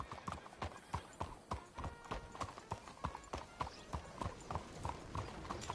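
Horse hoofbeats in Red Dead Redemption 2, a steady clip-clop of a horse walking at an even rhythm on a dirt road, moderately close with faint ambient sound and no talking.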